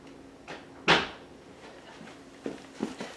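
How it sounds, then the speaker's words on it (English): A door is pushed shut indoors with one sharp, fairly loud bang, followed by a few fainter knocks and rattles as the room settles. "Let me go shut the door real quick."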